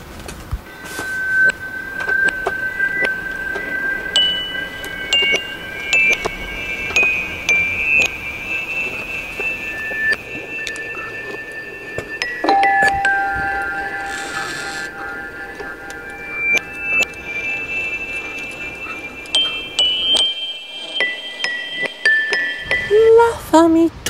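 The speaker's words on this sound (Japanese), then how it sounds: "This is how I microtune the piano." Small metallic toy piano notes ring out one after another as the instrument is microtuned, tinkling tones at shifting pitches with faint clinks and handling sounds between them, close and moderately loud.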